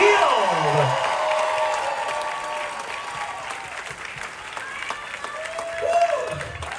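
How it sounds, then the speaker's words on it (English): An audience applauds and cheers steadily as a guest walks out at a live corporate Q&A event. A host's amplified voice and a rising musical sweep carry over the crowd noise. "Big round of applause as we welcome out the one and only John"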